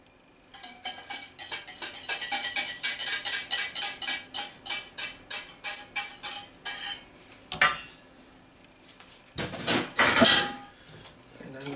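Chocolate mousse cream whisked by hand in a bowl, giving a fast, steady run of rhythmic metallic clinks and scrapes, then a pause and a couple of louder bursts of whisking near the end.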